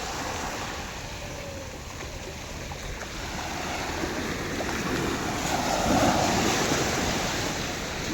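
Ocean waves wash onto Kozhikode beach in Kerala as the tide rises, a steady roar of surf mixed with wind buffeting the microphone, swelling slightly louder toward the end with no talking.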